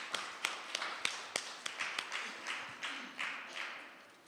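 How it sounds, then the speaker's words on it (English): Sparse, scattered clapping from a small audience, individual claps standing out in an uneven rhythm that slowly fades, no voices. "Let's give him another round of applause."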